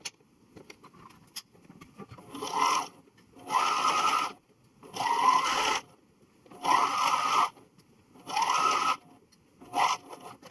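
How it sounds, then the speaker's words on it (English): Sewing machine stitching jacket sleeves for a Star Wars jacket, running in six evenly spaced bursts of steady whirring with short pauses between, close and clear, with no talk. "So both of the sleeves are pinned, so now I just have to sew them."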